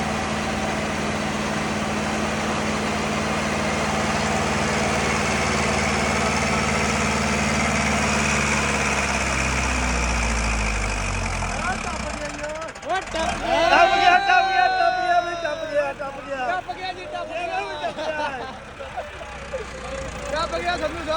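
Massey Ferguson MF364 tractor engine running hard in fourth high gear during a pit-crossing test, a steady low rumble that shifts and strains midway, with people talking and shouting over it.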